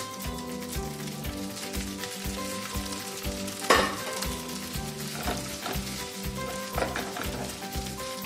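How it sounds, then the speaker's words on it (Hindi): Boiled noodles fry toward crispness in cooking oil with a continuous crackling sizzle, close and moderately loud. Irregular stirring scrapes and clanks cut through it, with a louder clatter a little before the midpoint. "अब मैं इसमें डालूंगी बॉइल्ड नूडल्स"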